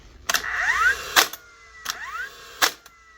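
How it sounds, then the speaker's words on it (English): Two sharp pneumatic cracks from a dropped and damaged Dewalt nail gun dry-firing with no nails feeding, each a loud close snap with a brief hiss, spaced about a second and a half apart. "Dewalt nail gun. She's firing,"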